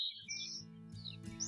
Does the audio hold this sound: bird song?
yes